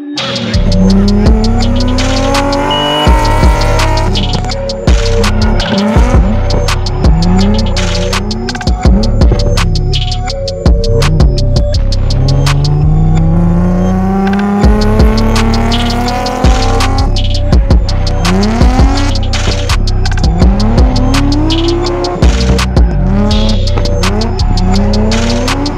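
Drift cars on a track during daytime practice runs: engines rev and rise repeatedly while tires squeal in long sweeping screeches, loud and continuous, with cars passing one after another and no talk.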